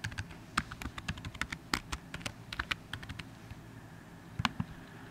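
Typing a password on a computer keyboard: a quick burst of close, crisp key clicks in an uneven rhythm, a short pause, then a few final taps.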